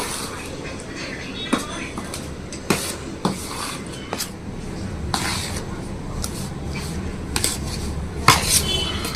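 Gram flour and powdered sugar are stirred together in a pan, with repeated metallic scrapes and clinks of a utensil against the pan at an irregular pace, close up, over a soft background hiss.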